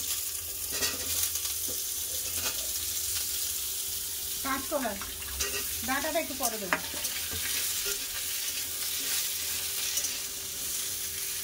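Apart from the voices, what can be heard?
potatoes and papaya frying in a pan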